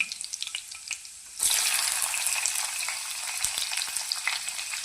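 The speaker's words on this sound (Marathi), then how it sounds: "कांदा मस्त ब्राऊन होईपर्यंत भाजून घेऊया तर कांदा चांगला फ्राय व्हायला लागलेला आहे" Finely chopped onion drops into hot oil with garlic and starts frying for a bean vegetable dish, a sudden steady sizzle that stays loud and even, with faint stirring scrapes and no voices.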